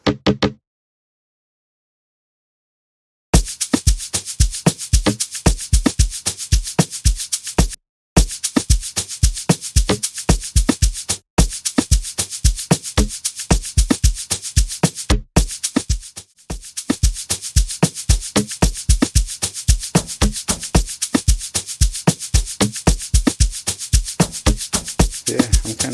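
Amapiano percussion loops built in FL Studio 20, dense rapid rhythmic hits with a bouncing groove, loud and continuous after a short pause near the start, with brief dropouts between passes and no talking.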